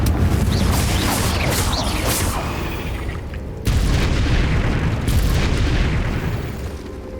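A Confringo fire spell in Hogwarts Legacy bursting with loud, rumbling booms, two heavy explosive blasts with crackling debris that fill the scene and fade slowly.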